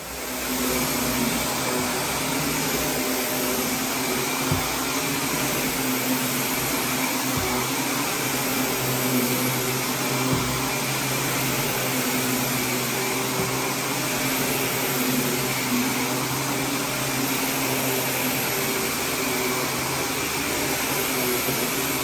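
A canister vacuum cleaner runs steadily and loudly for the whole stretch, drawing heavy pet hair off carpet in a home in Attleboro, Massachusetts, with an unbroken motor whine and airflow roar and no pauses.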